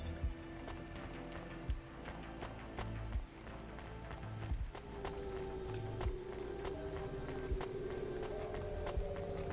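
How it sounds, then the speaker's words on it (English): Rain falls steadily in a rainy city within the video game Cloudpunk, a soft continuous patter dotted with small clicking drops and faint mechanical ticks, with a low hum and no voices. "It is kind of always raining in this city, isn't it?"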